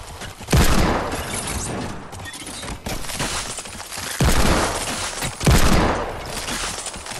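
Gunfire in the video game Fortnite, a loud, dense barrage of shots with several heavy bursts and crashing impacts running throughout, with no voices over it.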